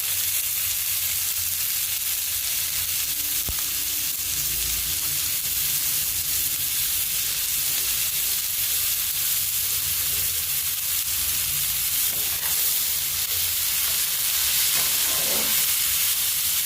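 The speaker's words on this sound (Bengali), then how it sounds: "এবার সবকিছু মা একটু ভালো করে ভেজে নেবে" Onion, capsicum, tomato and green chili frying in a pan for eggplant bharta, a steady close hiss and sizzle with occasional light stirring.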